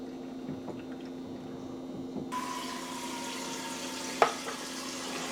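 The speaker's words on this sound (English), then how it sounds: "Now we have to pour it into the machine." Thick milkshake mixture blended with whiskey being poured into a Ninja Professional SLUSHi machine, a steady liquid pour with a brief clatter near the end, no talking.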